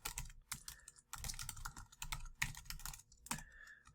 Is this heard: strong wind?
no